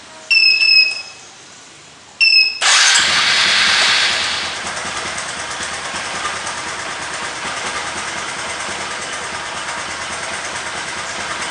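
A vehicle engine started remotely from an Android phone app cranks after a couple of short beeps, catches with a loud surge, then settles into a steady, close idle that runs to the end.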